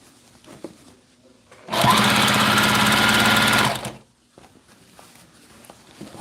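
A sewing machine stitches pants in one continuous burst of about two seconds, a loud, close, rapid mechanical whir between quiet handling sounds.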